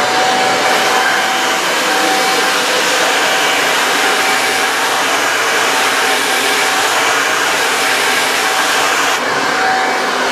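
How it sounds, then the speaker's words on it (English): A loud, steady whooshing roar of a running dryer blower, continuous and close, with a faint tonal whine throughout and no speech. "So I'm going to turn the dryer on"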